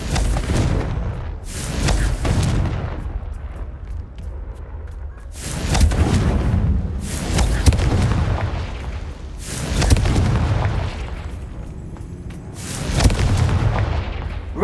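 Blasting-curse explosions from the Hogwarts Legacy game go off as four or five heavy booming blasts at regular intervals, each with a loud impact and a rumbling tail.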